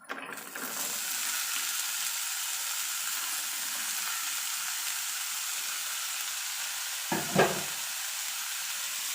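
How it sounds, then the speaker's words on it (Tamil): Sliced snake gourd sautés in hot oil with ginger garlic paste in a pan for a varuval, giving a quiet, even sizzle throughout, with a brief stirring scrape near the end. "புடலங்காவை சேர்த்து இந்த எண்ணெயிலேயே நல்லா கலந்து வேக விடலாம்"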